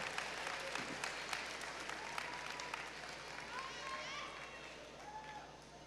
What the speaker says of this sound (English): Let's have another round of applause for these students.